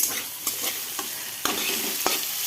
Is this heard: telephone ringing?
no